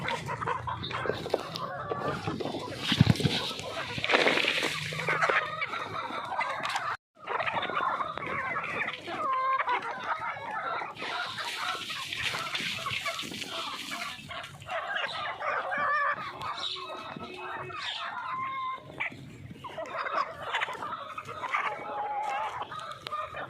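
Free-range desi chickens at a village farm cluck and squawk while pecking at buffalo fodder, a busy, continuous flock chatter up close, with occasional louder calls and faint human voices in the background.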